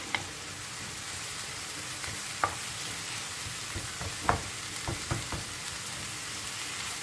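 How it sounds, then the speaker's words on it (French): Onions and garlic (pre-prepared garlic taken from the freezer) simmer in a pan for homemade tacos, giving a steady close sizzle with occasional sharper pops and light utensil clicks, with no talking. "on laisse bien mijoter les oignons"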